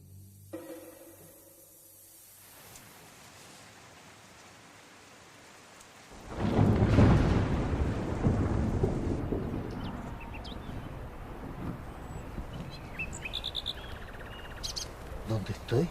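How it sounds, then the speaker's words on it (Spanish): A heavy thunderstorm: after a quiet opening, a deep rumble of thunder rolls in and a dense downpour of rain takes over, loud and continuous with drops hitting surfaces. "Está lloviendo, mi alma."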